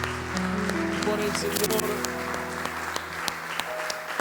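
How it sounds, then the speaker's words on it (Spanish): A church congregation applauds in a dense, steady patter of clapping, fairly loud and close, while someone speaks briefly over it and a sustained tonal hum, like an instrument, runs underneath. "podríamos darle un fuerte aplauso a esa gente que sufre"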